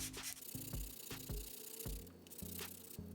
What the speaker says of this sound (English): There's the corroded aluminum that I'm sanding off.